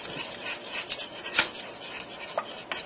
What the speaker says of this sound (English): I'm going to stir this all together